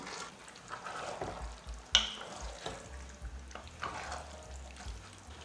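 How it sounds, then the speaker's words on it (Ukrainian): Beans are stirred gently with the back of a spoon into braised cabbage in a pan, soft scraping over a gentle sizzle, with a sharp clink of utensil against the pot partway through. "Акуратно вмішую її тильною стороною ложки."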